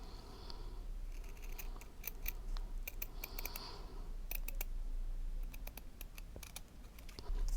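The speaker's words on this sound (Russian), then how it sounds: "скругляем наши уголочки ножницами." Scissors snip around a small square of rep ribbon, a series of sharp, close, quiet clicks and cuts in irregular bursts, with no talk.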